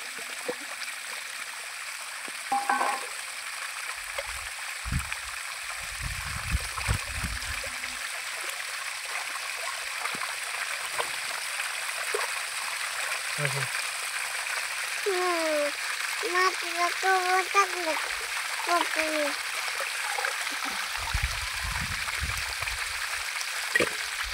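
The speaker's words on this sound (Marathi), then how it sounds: "आता आपल्याला त्याला 2 ते 3 पाण्याने स्वच्छ धुवायचं आहे" Fish pieces rinsed clean in two or three changes of water for a village-style fish curry and fry, giving a steady running, trickling wash with occasional splashes while a voice talks over it.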